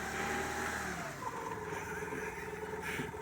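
A small car pulls away and accelerates, its engine note rising steadily and staying close and fairly loud over a constant rumble, with no talking.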